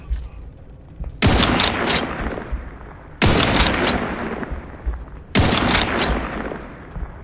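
Three loud, heavy sniper rifle shots from Outer Worlds 2, spaced about two seconds apart, each a sharp crack trailing into a long rumbling echo, with a faint voice near the start.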